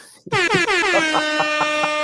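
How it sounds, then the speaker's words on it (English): A loud air horn blasts, sustained and brassy, with a slight wavering pulse through the held note. "I got to give you the air horns one time"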